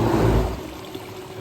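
A newly plumbed toilet on half flush, a brief loud rush of running water that quickly fades to a quieter trickle, with no talk.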